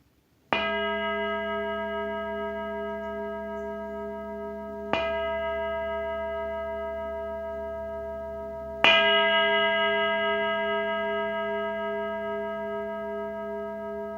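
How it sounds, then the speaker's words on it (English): A large meditation bell is struck three times, each blow ringing out with a bright clang and a long, slowly fading resonant hum, heard alone in a quiet room. "I'll sound the big bell"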